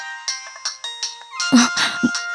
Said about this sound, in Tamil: ரொம்ப நேரமா ஃபோன் அடிச்சிட்டே இருந்தது, நீங்க எடுக்கவே இல்லை